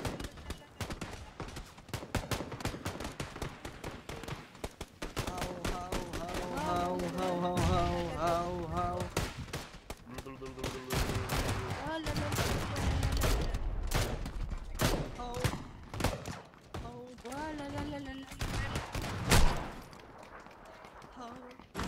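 Gunfire in the battle royale game PUBG, rapid bursts of shots crackling through the scene alongside running footsteps, mixed under frequent voice chat and game sounds.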